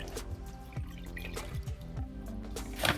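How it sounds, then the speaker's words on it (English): Water poured into a bowl for spring roll coating batter, a close trickling, dripping stream with small splashes and rising gurgles, heard alone. "we add 1 cup water to a bowl"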